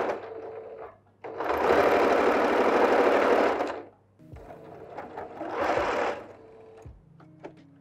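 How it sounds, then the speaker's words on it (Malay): A sewing machine stitches a batik face mask in two runs: a long steady whirr for about three seconds, a pause with small handling clicks, then a shorter burst of stitching, close and loud. "Kita buka lipatan dekat bawah ni supaya dia terbuka. Okay, teruskan jahitan."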